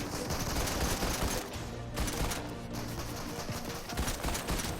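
Rapid bursts of gunfire in Fortnite, dense crackling shots repeating throughout amid game noise, fairly faint overall.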